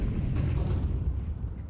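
Grenade explosions in a professional Counter-Strike match, a low, rolling rumble of blasts held steadily throughout, fairly muffled and without clear speech.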